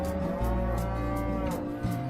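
Cattle moo loudly and close by on an Australian livestock farm in the Riverina region. Several long, deep, drawn-out calls follow one another with no talking.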